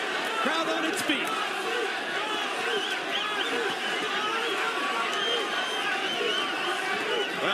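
A boxing arena crowd on its feet during a heavyweight exchange, a dense, steady roar of cheering and shouting voices that fills the whole stretch at close, loud level.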